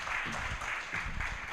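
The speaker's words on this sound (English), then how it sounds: "Please give her another hand clap." An audience applauds a keynote speaker at a benefits launch event, steady clapping filling the room from start to end.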